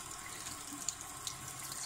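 Water running from a tap over fresh vegetables: a quiet, steady rushing splash with a couple of faint drips.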